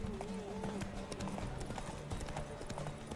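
Roach, the horse in The Witcher 3, trots in a steady clip-clop of hooves during a race, with other riders and faint game sounds in the background.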